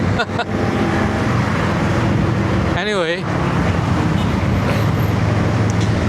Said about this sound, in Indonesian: knalpotnya kacau-kacau ya, knalpot brong semua